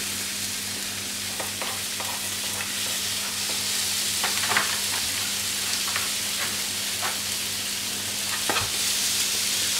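Steady sizzling of homemade beef burger patties frying four at a time in a hot pan, a constant crackling hiss with occasional sharper pops, no voices.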